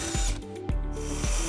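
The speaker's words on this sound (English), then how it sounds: "we're going to drill through the rear body flange onto the other side" A power drill with a 7/16 bit bores through the rear body flange of a 2007 Buick Rendezvous while a trailer hitch is installed, a loud steady whine broken by brief revving dips and pulses.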